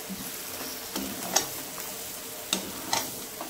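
Potatoes are stirred as they fry in a pan of Bengali mutton curry. A soft, continuous sizzle plays under a few sharp scraping clicks from the spoon against the pot.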